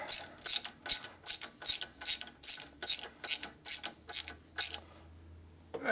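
A ratchet tightens nuts on a 1990 Harley FXR's S&S E carburetor, its even run of loud, close pawl clicks coming in about a dozen quick strokes before stopping, with no talk.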